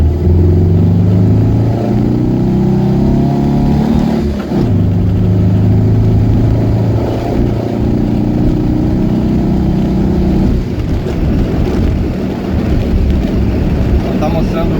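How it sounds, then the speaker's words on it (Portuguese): A 1979 VW Brasilia with an air-cooled engine pulls away and accelerates, the loud, close motor drone rising through revs, easing briefly, then climbing again. "Mas o barulho realmente é muito legal, o barulho aí do motor a ar."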